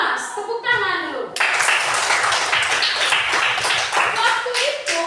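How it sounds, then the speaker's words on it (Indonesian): Children in a Sunday school class clap their hands in a quick burst of rhythmic slapping after a brief stretch of voices at the start. "Tepuk tangan dulu."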